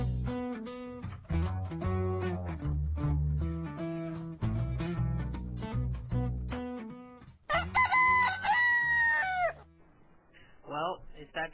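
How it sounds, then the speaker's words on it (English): A rooster crows twice, loud and close, after a stretch of music, and a short clucking call follows at the end. "the Rooster's chiming in"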